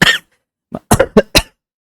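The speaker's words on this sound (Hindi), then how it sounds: "थोड़ी खांसी आ गई थी" Several sharp coughs, one short burst then three louder ones in quick succession, close up with no talking.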